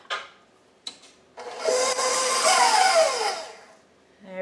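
Shortening and brown sugar being mixed together for ginger-spicesnap cookie dough, a steady whirring, scraping churn lasting a couple of seconds after a few brief knocks, close and alone.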